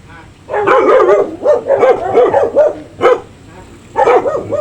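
A dog close by whines and yips in short, repeated bursts during a bath, with brief pauses between its vocal outbursts.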